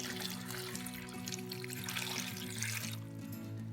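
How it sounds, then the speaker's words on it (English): Water pours steadily into a pressure cooker pot holding broccoli, a continuous close splashing trickle that changes pitch slightly as the pot fills. No one speaks. "I'm going to add as much water as will fit."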